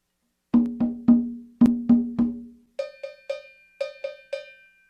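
A drum circle call-and-response pattern: a lower-pitched percussion phrase of six sharp strikes, answered by a higher-pitched phrase of six similar strikes, crisp and close with no talk.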